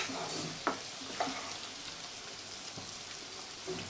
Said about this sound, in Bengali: দিয়ে একটু নাড়াচাড়া করে নেব।